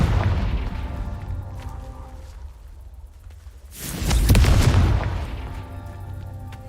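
A Confringo blasting spell explodes in Hogwarts Legacy: one loud, broad boom erupts partway through and rumbles off over a couple of seconds, against a low, steady backdrop of game ambience.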